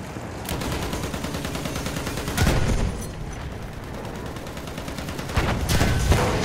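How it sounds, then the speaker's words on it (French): Enemy machine gun fire in the World War I shooter Battlefield 1 rattles in a dense continuous stream, with a couple of louder bursts standing out amid steady battle noise. "Mitrailleuse ennemie, par là!"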